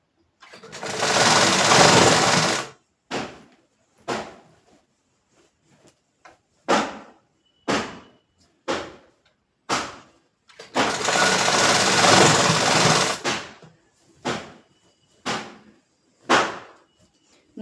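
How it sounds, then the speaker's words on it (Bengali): A sewing machine stitches a nightie in two long, loud runs of a few seconds each, separated by a string of short bursts and clicks, close by with no talking. "পুরোটা সেলাই করে দেবো।"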